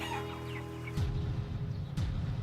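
Chickens in a documentary about floating farms make fowl sounds, with steady low clucking and rustling and two short louder bursts near the middle and end, close by with no talk.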